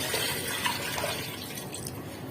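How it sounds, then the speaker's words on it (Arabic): Tap water pours steadily onto browned meat in a cooking pot to make broth, a soft continuous splashing and gurgling at close range. "هنبدا ننزل عليها بالميه اللي هتعمل المرقه او الشوربه بتاعتنا بالشكل ده"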